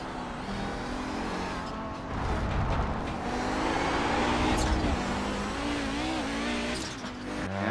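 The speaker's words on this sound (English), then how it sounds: "it sounds like just the Audi gearbox coming back to bite another Audi driver again" An Audi race car engine at Michelin Raceway Road Atlanta drones loudly and continuously, its pitch wavering and dipping as a gear shift is missed, with a brief stumble midway before the revs climb again.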